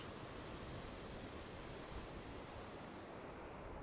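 Ocean surf at Sycamore Cove Beach gives a faint, steady, distant wash of broadband noise without distinct breaks, and no voices are heard.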